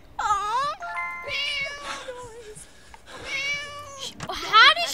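A cat meows in the video game Scary Teacher 3D: several drawn-out, pitch-bending meows follow one another, clear and prominent, with a rising, louder cry at the end and no talking.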